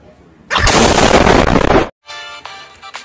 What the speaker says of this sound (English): That's my exploding skill right there.